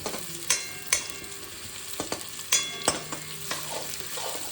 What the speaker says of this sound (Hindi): दाल का तड़का बना रही हूँ यहाँ पे मैं